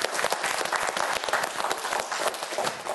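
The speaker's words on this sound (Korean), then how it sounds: "우리 박수 한번 보내줄까요?" A studio audience on a TV quiz show gives a brief round of applause. The clapping is steady and busy, with distinct individual claps across three seconds.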